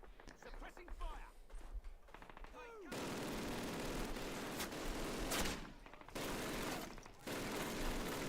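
Sustained automatic suppressing fire in the video game Call of Duty roars in long, dense bursts with short breaks. Quieter game sounds come first, and voices talk over the action.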